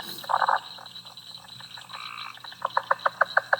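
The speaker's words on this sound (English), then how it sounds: "There's cricket frogs in the background." Cricket frogs calling in a spring chorus, a series of sharp, evenly spaced clicking notes that speed into a rapid, regular run near the end, with other frog calls at a distance and no talking.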